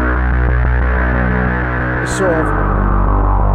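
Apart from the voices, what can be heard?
bass synth with spring reverb from Ventris Dual Reverb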